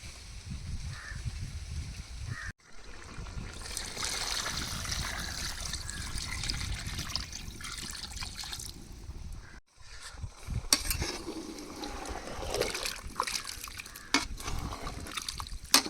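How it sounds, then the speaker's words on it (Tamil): Water poured into beef liver gravy simmering in a pot, a steady soft trickle and splash with faint stirring over outdoor village background, quiet and continuous with brief pauses. "லைட்டாக தண்ணி ஊற்றிக்கணும்"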